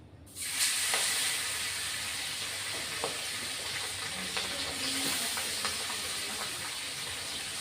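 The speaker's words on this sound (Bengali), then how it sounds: "এখন আমি কড়াইতে মাছ দিয়ে দিচ্ছি" Small chara pona fish dropped into a hot wok start frying with a sudden loud, steady hiss and sizzle that holds throughout, dotted with small pops and crackles, with no voices.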